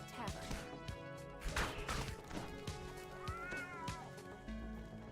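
Several cats meow in a tavern cellar in the Dungeons and Dragons Online game, with repeated close meows and a drawn-out caterwaul over game background sounds.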